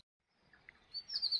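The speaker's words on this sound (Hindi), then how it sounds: "चिड़िया की आवाज़ आ रही है।" A small bird chirps outside at dusk, a few faint scattered calls followed by a brighter, louder run of high tweets close by.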